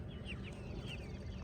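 Chickens cluck softly in the background, a few short chirpy calls scattered over a low, steady hum, faint and a little distant, with no one speaking.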